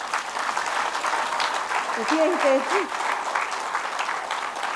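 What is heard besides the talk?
audience applause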